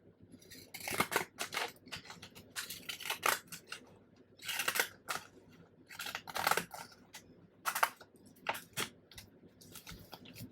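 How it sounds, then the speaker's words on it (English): Scissors trimming paper for a handmade vintage journal, with repeated crisp snips and rustling paper in short bursts, close and fairly quiet, no talking. "I'm just going to trim that off."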